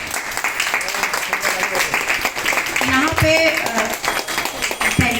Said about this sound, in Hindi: प्लीज़ आप सभी लोग उनके लिए एक बार जोरदार तालियां बजाएं